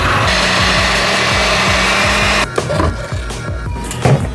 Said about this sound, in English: You're just gonna put in a blender and mix this up.